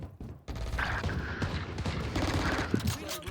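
Rapid gunfire from a video game shooter, with shots sprayed in all directions while the player's health is low. Dense, loud bursts continue under the game's own noise for the whole short stretch.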